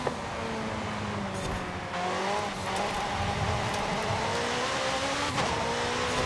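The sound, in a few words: McLaren 650S car driving in video game Forza Horizon 5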